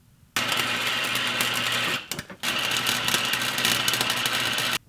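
Welding on a Pontiac Sunfire car frame during rust repair, a loud steady crackling buzz that runs for about two seconds, breaks off briefly, then starts again and holds steady, close by with no talking.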